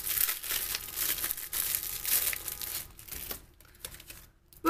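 Cardboard boxes and plastic packaging for contact lenses being opened, with near crinkling, rustling and tearing in uneven bursts that thin out toward the end, then a louder crackle.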